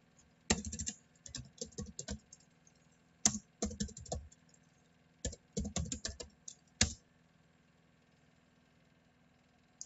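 Bursts of computer keyboard typing as a router command is entered, clustered keystroke runs separated by pauses, close and fairly quiet over a low steady hum, then silence for the last few seconds.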